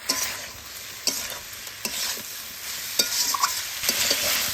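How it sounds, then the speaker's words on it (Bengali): Goat skin fries in a pan with salt and turmeric for a goat skin curry, a steady sizzle broken by repeated scraping stirs at close range, no voices. "নুন আর হলুদের গুঁড়া দিয়ে বেশ খানিকক্ষণ ধরে নাড়িচাড়ি নিয়ে"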